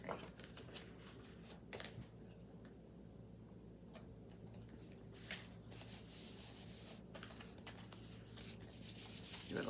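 Fingers rub the back of a layer of paper freshly glued onto a card, making soft, quiet, close brushing and scuffing strokes with a few light taps.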